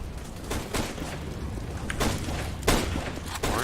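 Grenades explode during a competitive first-person shooter match with a bomb objective, heard as a few dull, booming bursts over steady loud game noise.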